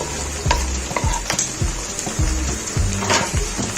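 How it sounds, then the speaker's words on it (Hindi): Chopped tomatoes fry and sizzle in a pan over a medium flame while achari bhindi (spiced okra) cooks, with a steady hiss broken by repeated scraping stirs and soft clinks of a utensil against the pan. "मीडियम फ्लेम पर हम इसको कुक कर रहे हैं।"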